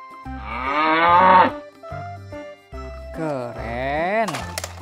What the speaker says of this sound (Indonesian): Induk sapi.